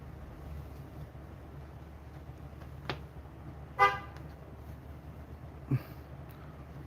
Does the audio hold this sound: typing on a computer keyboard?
no